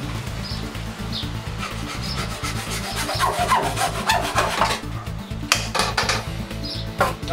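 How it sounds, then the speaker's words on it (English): Rhythmic back-and-forth hand sawing scrapes steadily through a plastic pipe nearby, the strokes continuing evenly with no talking. "now we're going to mark off 20 inches on the pipe. And then we're just going to cut it."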